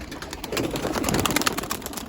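Pigeons coo softly in a cold, icy setting, with steady low throaty cooing under faint bird chirps and rustling, no talking.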